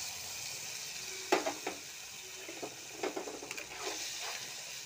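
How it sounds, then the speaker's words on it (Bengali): Onions frying in a pan as poppy seeds are tipped in: a soft, steady sizzle with a few sharp clinks and stirring scrapes near the start and middle. "পেঁয়াজগুলোকে আমি একটু ভেজে নেব।"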